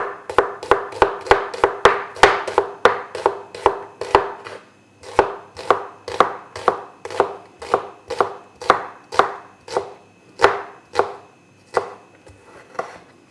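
A knife chops zucchini on a cutting board in a steady series of sharp, close knocks, about two per second, easing slightly toward the end.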